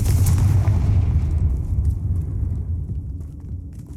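A Confringo blasting spell detonates in the Hogwarts Legacy video game, a loud, deep explosion that booms at once and then rumbles and fades away over a few seconds, with nothing else heard.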